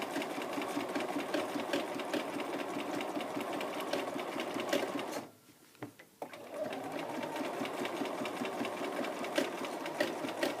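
A home sewing machine runs a steady, fast stitching drone while free-motion bobbin-thread stitching with a clear darning foot, the whir breaking off for about a second midway before resuming at the same even pace.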